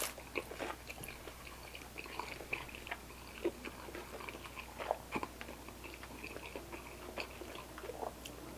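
Close-up chewing of naan bread from a Nashville hot chicken meal, with repeated soft bites, wet squishes and small crunches in an irregular rhythm over a faint room hum, no talking.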